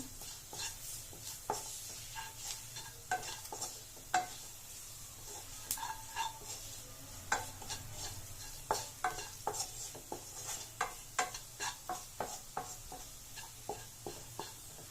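Egg sukka masala being stirred after salt goes in, repeated scraping clicks of a spoon against the pan over a faint sizzle, quiet and fairly rhythmic.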